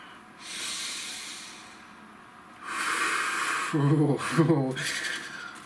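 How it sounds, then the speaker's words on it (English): Long, airy breathing close to the mic: a slow inhale, a pause, then a deeper hissing breath in and a drawn-out breath out, with a brief voiced sound in the middle. "Nice deep breath."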